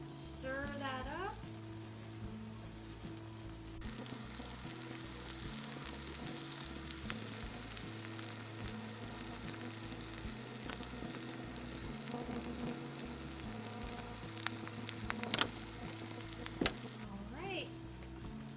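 Étouffée sizzles and bubbles in a pot as it is stirred after parsley goes in, a steady frying hiss running throughout with occasional scrapes of the spoon.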